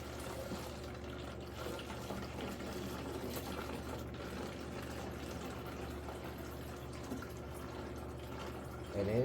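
A gallon of coolant is poured steadily into a mixing bottle, giving a continuous gurgling liquid stream at moderate level that runs throughout and ends with a brief clatter.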